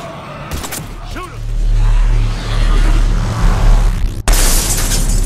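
Heavy gunfire and low explosive booms during a combat sequence in the video game Mass Effect 3, loud and rumbling throughout, with a voice speaking over the action.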